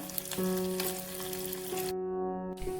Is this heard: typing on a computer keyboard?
no